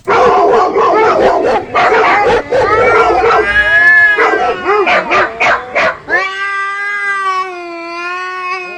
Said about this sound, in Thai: ผมก็เลยไปเอาเสียงหมาเสียงแมวขอมาใส่เอาฟังฟังร่วมๆกัน